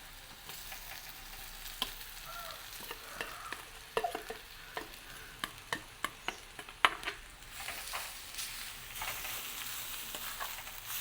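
Spices and crushed sambal fry and are stirred in a pan over low heat, giving a steady sizzle broken by a series of sharp spoon scrapes and clinks against the pan, close and alone with no talk.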